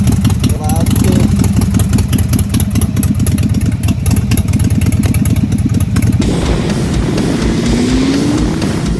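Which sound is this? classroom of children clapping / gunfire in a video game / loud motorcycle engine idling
loud motorcycle engine idling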